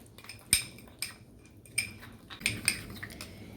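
A metal spoon clinks against a bowl while face pack paste is stirred, giving five or six sharp, close clinks at uneven intervals over a soft scraping background.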